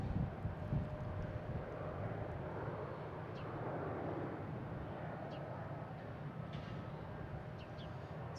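A Delta jet airliner takes off from Boston Logan bound for Pittsburgh, its engines a steady, broad roar heard from a distance that holds evenly throughout.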